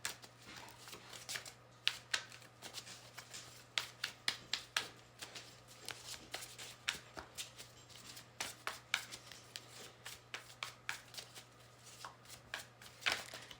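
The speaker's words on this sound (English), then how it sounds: "Let's keep pulling some cards so I can clarify this." Tarot cards are shuffled by hand in a rapid, steady run of crisp riffling slaps. The sound is close and quiet, with no voice.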